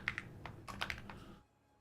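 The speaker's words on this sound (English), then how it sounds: "You like the keyboard sound?" Quick, close keystrokes on a thocky-sounding computer keyboard patter irregularly for just over a second before stopping into near silence.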